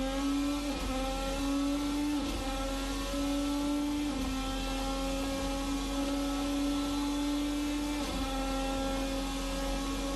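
Steady, loud engine drone from a Formula Americas 2020 race car in a racing sim game, holding a high pitch that steps with each upshift, continuous and alone with no talk.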